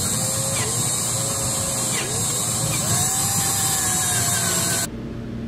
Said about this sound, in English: We're going to drill that sucker out a little bit bigger